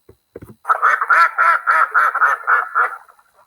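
A duck quacks in a rapid run of nasal calls, about a dozen in a row, loud and close, after a couple of faint clicks.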